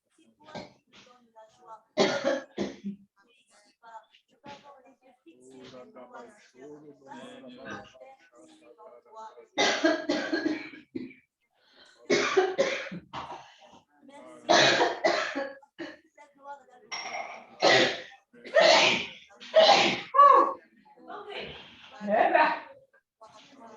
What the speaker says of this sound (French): je me mets à éternuer